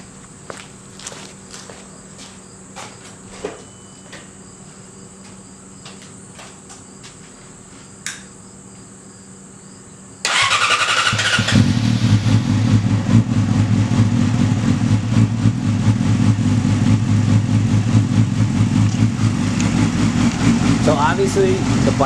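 A Yamaha R6 motorcycle with an M4 exhaust cold-starts after quiet footsteps and crickets, then settles into a loud, steady, rumbling idle held close for the rest of the clip.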